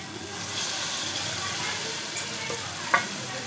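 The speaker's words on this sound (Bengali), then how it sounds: "এইভাবে খুন্তির সাহায্যে আমি নাড়তে থাকবো" A metal spatula stirs pineapple chutney cooking with sugar in a pan over a lowered flame. A continuous soft sizzle and bubbling hiss carries on, with a few gentle scrapes and one clearer knock near the end.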